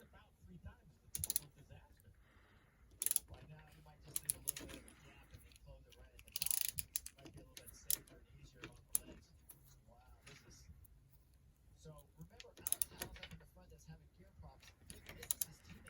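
A torque wrench tightens a SRAM Guide brake hose fitting in quiet, close, intermittent clicks and ratcheting ticks with sharp little snaps scattered throughout, amid faint handling noise.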